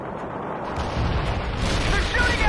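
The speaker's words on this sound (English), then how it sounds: "They're shooting at us!" Battle gunfire and booming explosions from World in Conflict in the Cascade Range, a dense rumbling wash that swells partway through, distant impacts under faint radio-style chatter.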